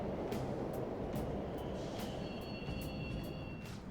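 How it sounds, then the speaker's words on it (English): Subway train running in an underground station in the video game Persona 5 Royal: a steady low rumble fills the whole stretch, with faint high whines and light clicks riding on top. "The trains are totally running."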